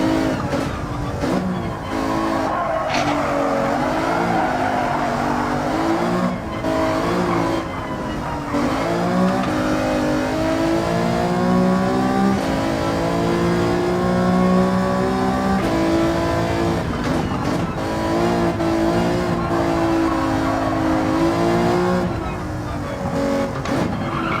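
A race car engine in Gran Turismo 7 on a tyre-warming out lap, loud and close, rising and falling revs with gear shifts and occasional tyre squeal, continuous throughout.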